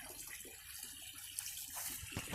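Water gushes out in a steady, faint broadband wash during garden pond maintenance, continuous and even throughout with no talk over it.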